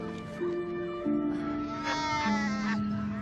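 Sheep bleat in a quavering, drawn-out way in a film scene, a few wavering calls over a steady tonal background with no speech.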